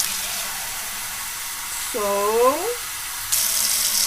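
Hot tap water runs steadily into a measuring cup, a close, continuous splashing hiss with a brief rising gurgle as the cup fills, while a person speaks briefly over it.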